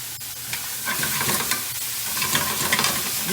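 Ham and shrimp sear in a hot pan for jambalaya, a steady loud sizzle with scraping stirs running throughout, no voices.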